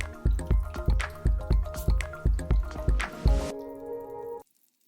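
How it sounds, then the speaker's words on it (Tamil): Batter-dipped paneer pieces dropped one by one into hot frying oil, about nine evenly spaced soft plops, each followed by a brief sizzle, ending in quiet. "ஒவ்வொரு பன்னீரை டிப் பண்ணி நான் இதில் போட போகிறேன், ஆயில் ஃப்ரையில் போட போகிறேன்"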